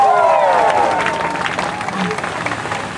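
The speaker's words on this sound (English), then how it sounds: "A big round of applause for Santa's elves." Audience applause and crowd noise at an outdoor ski show with a water-ski pyramid act, dense clapping mixed with cheering and babble, loud and close at first, then gradually thinning.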